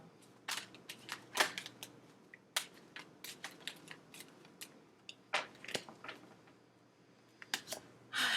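Tarot cards being shuffled by hand during a reading, giving quiet, irregular snaps and riffling bursts spread through the clip, close and fairly soft with no talking.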